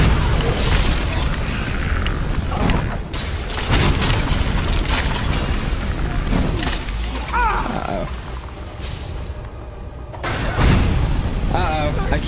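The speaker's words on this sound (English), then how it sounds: "I keep lighting her on fire." Fire spell being cast repeatedly in Skyrim, a roaring, crackling blaze of flame bursts with booming impacts, loud and continuous with brief dips, mixed with creature grunts and roars.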